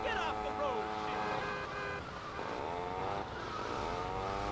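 Slow, fragile pizza delivery motorbike in GTA Vice City, its engine droning and rising in pitch with shifting revs, accompanied by tire noise and other game sounds throughout.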